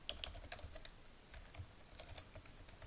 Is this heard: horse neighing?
no